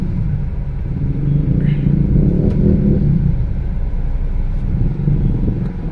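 A vehicle engine rumbles steadily at night in heavy city traffic in Surat, Gujarat, low and close, swelling briefly as it revs, with faint horns and passing traffic mixed in.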